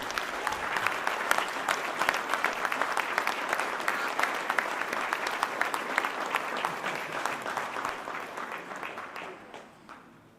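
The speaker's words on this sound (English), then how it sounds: "So everyone stand up. I know your legs are sore. And clap for our mayor, Cherelle Parker." A standing crowd gives sustained applause for Philadelphia mayor Cherelle Parker at a public event, dense clapping at full strength for most of the stretch before tapering off near the end.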